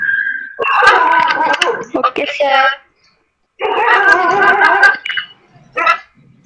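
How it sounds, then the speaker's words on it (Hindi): A dog barks repeatedly in loud bursts through an online class session, mixed with a nearby voice briefly speaking over the noise. "कुत्ता भौंक रहा है"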